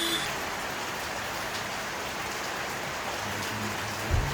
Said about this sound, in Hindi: और बारिश का ये आलम है, देखिए